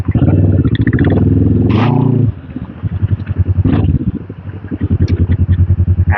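A motorcycle exhaust roars and rumbles close by on a residential street stroll in Canlubang, loud and throaty at first, then dropping and pulsing as the engine revs again.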